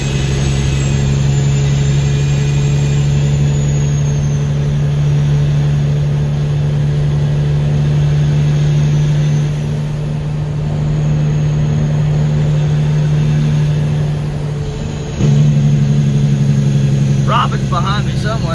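Heavy-haul Peterbilt 379 truck engine driving, a loud steady low drone with a slight shift in pitch near the end, heard from inside the cab.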